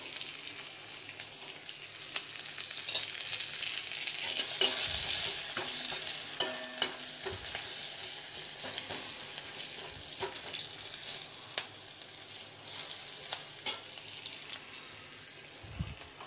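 Onions fry with salt in a pan, giving a steady, moderate sizzle broken by repeated scraping stirs and occasional spoon knocks, with no talk over it.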